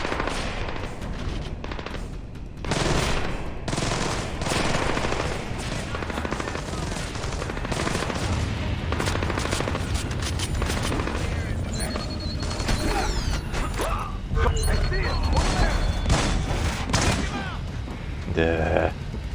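Bursts of automatic gunfire and single shots from the stealth video game Splinter Cell: Blacklist, rattling steadily throughout with mechanical clicks and a voice talking over the action.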